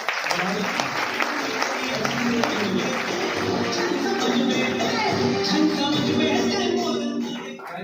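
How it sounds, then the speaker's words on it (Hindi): Loud, sustained applause from a large audience at a motivational business gathering, dense clapping mixed with crowd murmur and voices, fading out at the end. "तो एक बार अगेन कोमा सर के लिए जोरदार तालियां।"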